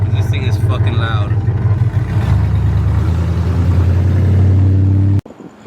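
A loud 1969 Camaro engine rumbles and revs close by, its deep growl rising and holding, while a person talks over it before it cuts off abruptly.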